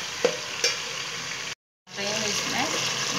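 Garlic and ginger frying in oil in a pan with cumin, a steady close sizzle with a couple of stirring knocks, broken by a brief silent gap before the sizzling resumes.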